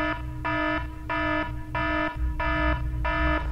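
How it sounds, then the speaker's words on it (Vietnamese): An alarm going off at a house in GTA 5, a loud electronic tone pulsing in even on-off beeps, about six repeats, with a low rumble underneath. "Khi hắn đi tiếp cận gần ngôi nhà này thì đã bỗng dưng có một báo động đã hú lên"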